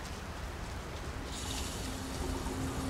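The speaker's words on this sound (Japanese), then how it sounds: "雨は降ってるね。" Steady rain patters down in the Starfield video game, a dense, even hiss that swells slightly louder partway through, with no voices over it.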